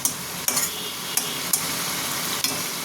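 Tomatoes sautéing in a pan, a close, steady sizzle broken by several sharp clinks and scrapes of a spatula against the pan at irregular intervals, with no talking.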